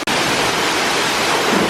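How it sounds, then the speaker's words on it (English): Pambok Waterfall flows with a constant, loud broadband rush of falling water heard close up, with no voices. "the flow of the waterfall was perfect"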